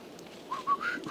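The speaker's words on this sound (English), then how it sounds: "that was a Sasquatch whistle" A single whistle rings out in the woods, a few short rising and falling tones in quick succession, moderately near against quiet forest background.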